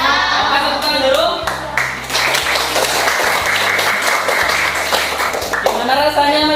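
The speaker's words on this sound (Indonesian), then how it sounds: "Oke, tepuk tangan dulu." Children in a school classroom applaud together after finishing an experiment: a steady patter of many small hands clapping throughout, with voices and chatter mixed in over it.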